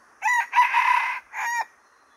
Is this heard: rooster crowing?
yes